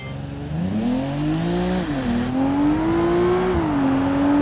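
A car engine in the BeamNG driving game, set to Sport Plus mode, revs loud and steady at full throttle, its pitch climbing, dipping briefly with a gear change, then rising again, with no voices over it.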